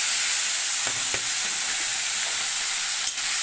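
Spices such as chicken masala, red chilli powder and turmeric frying in hot oil, a loud continuous sizzle and hiss at close range, with a few faint scrapes and no talk.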